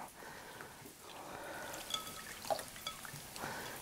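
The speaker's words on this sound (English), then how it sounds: "So let's rinse the seeds off." Water runs and drips over chiltepin chile seeds as they are rinsed, a soft, uneven trickle with a few small splashes, close and fairly quiet.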